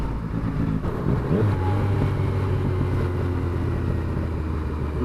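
A Yamaha FZ-09 motorcycle rides along with a steady engine drone under rushing wind, its pitch shifting briefly as the gears drop, with no talking.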